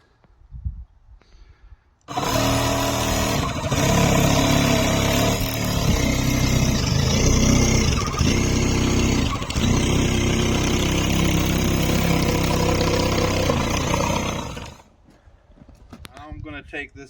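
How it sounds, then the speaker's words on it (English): A Sawzall reciprocating saw cuts through a wooden pallet with a loud, steady, rasping drone that lasts about thirteen seconds. Quieter handling noises come before and after it. "This is your first time on the Sawzall."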